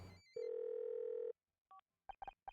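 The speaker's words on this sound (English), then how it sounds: "Phone rings." A telephone in the Murder by Numbers video game sounds a short tone, then a long steady beep, followed by a brief blip and a quick series of electronic ring pulses, clean and isolated with no talk.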